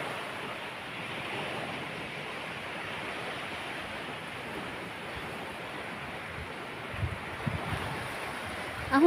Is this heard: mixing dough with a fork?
no